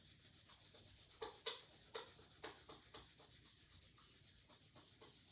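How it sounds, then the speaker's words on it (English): Palms rubbing vigorously together in a quiet room during a chair yoga warm-up, a soft dry swishing friction with a few sharper strokes, close and faint, no voice. "start to vigorously rub your palms. Get some heat going from the friction of your hands."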